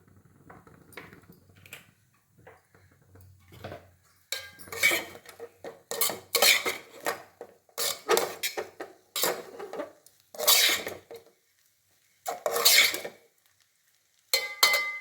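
Rice upma made without onion is stirred in a pan with coconut oil, as a spoon scrapes and clatters in loud close bursts separated by short quiet pauses.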